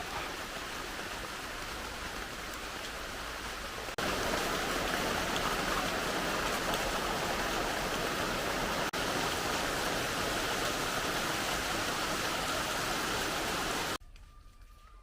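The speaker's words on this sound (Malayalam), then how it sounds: "രണ്ടു ദിവസമായിട്ട് മഴയൊന്നും ഇല്ലായിരുന്നു. ഇപ്പം എന്തേ മഴ." Steady, dense hiss of rain falling, loud and continuous throughout, with a brief quieter stretch near the end.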